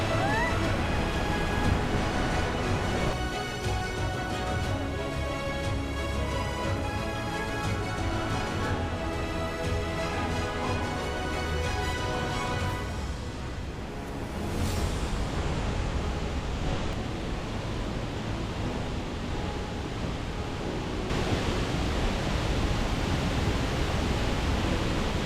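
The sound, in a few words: waterfall in Bali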